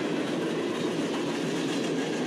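A freight train rolls past close by, its wheels clattering in a steady, continuous rumble of rail noise with no voices.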